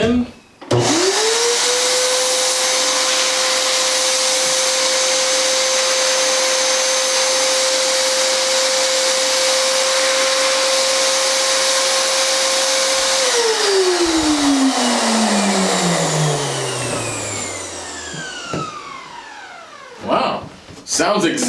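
A loud electric paint spray gun motor whines at a steady pitch, then shuts off and spins down with a falling tone, sounding much like a vacuum cleaner.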